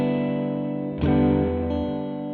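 Clean electric guitar chords ring out, a sustained strum fading before a second, louder strum at about one second that rings on, close and unaccompanied.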